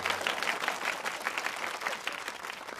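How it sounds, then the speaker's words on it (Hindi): A live audience breaks into dense, steady applause with many hands clapping at once, lasting the whole stretch at moderate loudness, following a joke in a comic stage scene in a Hindi film. "तालियां"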